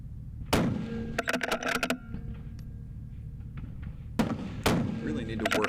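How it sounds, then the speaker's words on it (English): Rifle shots ring out at an outdoor positional precision rifle match, fired from railroad-tie positions: two loud sharp reports with rolling echoes, a cluster of clanks and clicks between them suggesting bolt work, over steady background wind and rumble. "these next positions are 1 shot each from 6 different positions on railroad ties"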